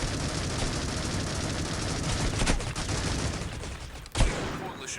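Gunfire from the mobile shooter Critical Ops during a ranked match, a dense continuous rattle of shots with a couple of sharper cracks standing out, loud and close throughout.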